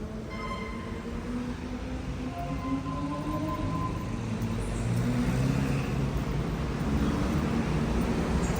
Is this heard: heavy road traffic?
yes